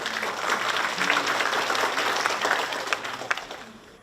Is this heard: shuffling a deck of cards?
no